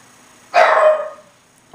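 A single sharp dog bark nearby, loud and alone against a quiet room, followed by a brief faint sound.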